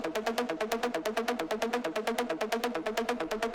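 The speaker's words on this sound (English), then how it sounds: "there's this like creepy circus ARP" A creepy circus-like synth arpeggio cycles quickly and evenly, bright plucky notes repeating in a steady bouncing pattern, loud and alone without any talking.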